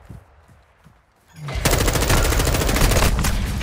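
Automatic gunfire in Call of Duty Modern Warfare erupts after a quiet start, a loud, rapid sustained burst of shots that continues to the end.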